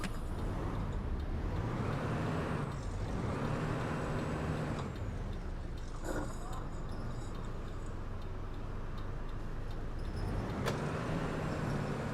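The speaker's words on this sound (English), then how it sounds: "Last time I heard that noise of brakes was on an Alexandra Royale at Showbus" Optare Spectra low-floor bus in the OMSI 2 driving simulator, its engine droning steadily and loudly throughout, with short bursts of air-brake hiss breaking through around the middle and near the end.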